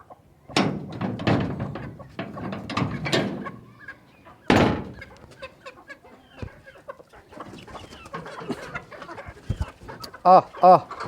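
Laying hens in a backyard mini zoo clucking near and fairly loud in irregular bursts, with a sharp knock partway through and quieter scattered clucks and peeps afterward.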